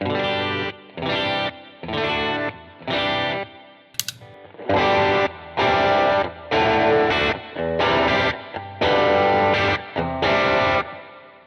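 Electric guitar played through a gritty overdrive, strummed in choppy repeated chords with short gaps between phrases, loud and close with no talking.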